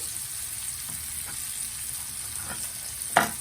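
Chillies frying in hot oil for a red spinach chutney, a steady close sizzle with a few soft stirring scrapes and a sharper knock near the end.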